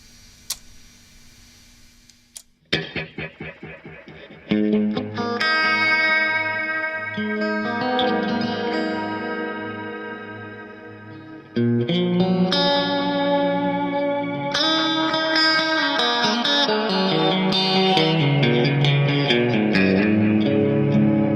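An electric guitar runs through Strymon Flint and El Capistan pedals, switched by a Moen GEC8. Plucked notes and chords ring out with lush echo and shimmer, building from a sparse start into a full, loud, sustained wash. There is no talking.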